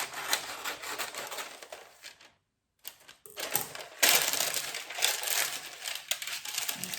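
Parchment paper crinkles and rustles at close range as it is pressed and fitted into a small baking sheet. The crackling comes in uneven bursts, with one brief silent gap and a louder stretch near the end.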